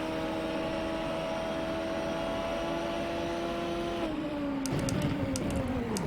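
Nissan GT-R GT500 race car in rFactor 2 at NOLA drones steadily at high revs, then the engine note drops as the car slows, with loud continuous roar and some rattling clicks near the end.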